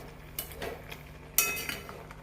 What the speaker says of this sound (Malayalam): നമുക്കൊന്ന് ഇളക്കിയെടുക്കാം.